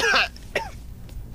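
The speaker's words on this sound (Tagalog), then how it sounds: "Inuubo lang ako." A person coughs or clears their throat twice, a harsh burst followed by a shorter one, close and fairly loud, then quiet.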